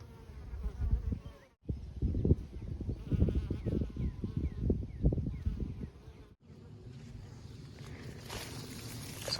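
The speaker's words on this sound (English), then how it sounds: "there's like honeybees everywhere in here" Honeybees buzz busily among buckwheat plants in a field, a dense, wavering hum from many insects close by that carries on through the clip, with brief dropouts.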